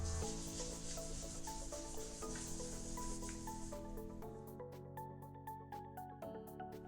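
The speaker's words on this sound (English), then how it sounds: "take your alcohol swab again, and rub the area 10 times." An alcohol swab rubbed on skin to clean an injection site, a soft, faint, steady rubbing that repeats over and over behind quiet background tones.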